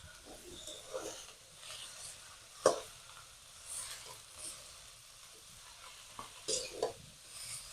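Bottle gourd and moong dal are stirred in a pan, making soft scraping and faint sizzling with a few louder spoon knocks, all fairly quiet throughout.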